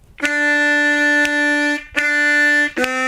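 Three forced, buzzy harmonica notes, low and reedy with a honking, duck-like tone: one long blast, then two shorter ones.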